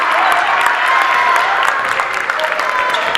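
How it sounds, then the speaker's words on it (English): Fans at a high school varsity basketball playoff game clap in a steady, loud patter of crowd applause, with voices mixed into the noise. "Farragut fans are clapping, saying good defense."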